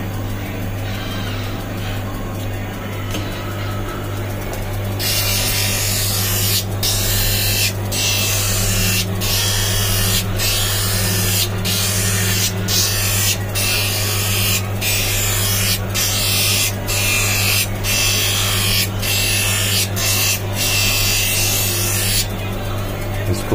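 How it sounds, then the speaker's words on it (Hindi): A blue-cut zero-power eyeglass lens is ground along its edge for a metal frame. After a steady hum, a loud, continuous abrasive rubbing starts and runs for about eighteen seconds, broken by brief regular pauses. "इसको पलट के घिसेंगे, एक तरफ घिस लिए हल्का सा, फिर पलट के घाट बनाएंगे इसका।"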